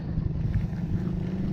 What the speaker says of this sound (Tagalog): kaso may motor